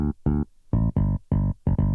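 A dry, unprocessed bass guitar line from FL Studio's stock Boo Bass plugin plays a groovy run of short, punchy notes separated by brief gaps, heard alone.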